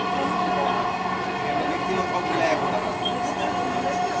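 Steady rumble and hum of a Dhaka metro rail train in motion, heard from inside the carriage at an even, continuous level with a faint higher tone drifting through; someone speaks quietly over the ride noise.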